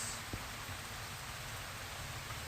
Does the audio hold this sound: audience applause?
no